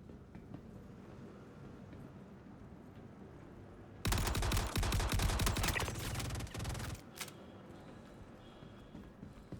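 Gunfire in the space shooter game Star Citizen with a pistol, a sudden dense burst of rapid, loud shots lasting about three seconds over a steady ambient hum, then one final crack.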